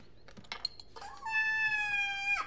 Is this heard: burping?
no